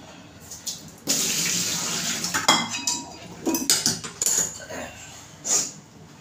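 Metal cooking pots and vessels clank and clatter close by in a kitchen while water is poured and strained from them, with a running-water gush and several sharp knocks between quieter pauses.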